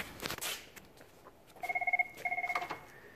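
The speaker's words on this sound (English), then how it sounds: "And we got a phone call." A telephone rings at a U-Haul rental store with an incoming call, two bursts of rapid electronic trilling after a brief noisy stretch, moderately loud and with no talk over it.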